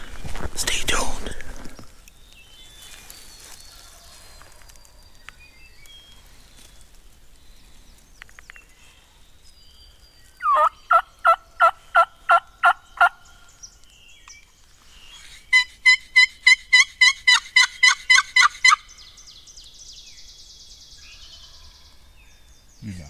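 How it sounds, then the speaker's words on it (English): Wild turkey gobbling from its roost on public land during a late-season hunt, two separate bursts of rapid, rattling gobbles sounding clear at moderate distance amid quiet woods, with faint whispering and birdsong between. "He's still gobbling on the roost."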